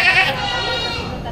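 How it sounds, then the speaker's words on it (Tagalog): A goat at a Philippine livestock market gives a loud, close, wavering bleat that fades into a sustained drawn-out call, with a voice speaking underneath. "Ito yung isa sa pinakamalaking kambing na nabili ngayon."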